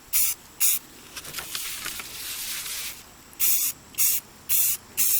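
Aerosol spray paint hisses in short bursts onto a three-tier dessert stand, with a longer steady spray in the middle and four quick close puffs at the end, loud and alone with no talk.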